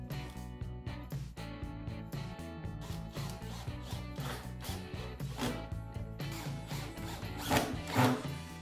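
A power driver sets 1-inch screws through metal bands into an old whiskey barrel, a close, steady mechanical whir with ratcheting clicks that swells louder near the end as a screw seats, with no talk.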